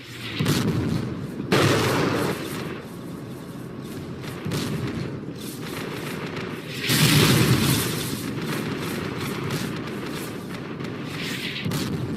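A mine clearing line charge from an ABV detonates in the tactical shooter Project Reality, giving deep booming blasts that swell twice over a steady rumbling battlefield din, moderately distant and without speech.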